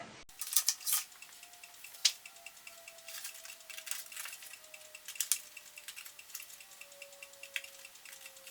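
Pieces of a hypercube model are cut apart with faint, scattered snipping clicks over a thin steady tone in a quiet room.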